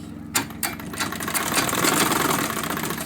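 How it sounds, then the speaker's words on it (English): A sewing machine stitches a bag, a couple of short clicks giving way to a steady, close whirring run. "So now I'm going to now stitch this."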